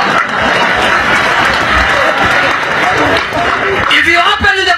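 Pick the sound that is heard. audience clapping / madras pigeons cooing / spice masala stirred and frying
audience clapping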